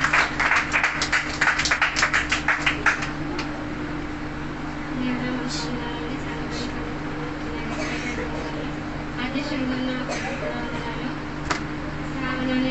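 At a PYPA community meeting, the audience gives a short burst of clapping to welcome a singer, dense for about three seconds before fading into a steady room hum with faint background voices.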